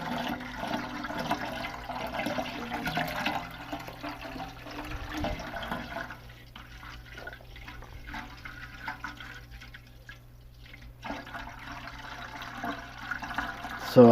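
Homemade moonshine mash flowing through a siphon hose in a kitchen, a continuous gurgling, trickling liquid stream that thins out midway and returns louder near the end.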